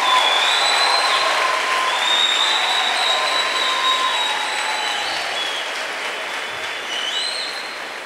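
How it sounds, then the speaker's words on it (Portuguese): A church congress audience applauds the actors, sustained loud clapping from a large crowd that slowly tapers, with scattered whistles and cheers over it. "Vamos aplaudir os atores."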